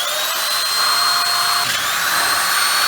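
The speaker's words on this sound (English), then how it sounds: "Borrowed drill coming in hot." A power drill bores through a Honda Civic EG passenger-side engine mount, a loud continuous high-pitched whine with a pitch shift midway as the bit bites, nearby and alone without talk.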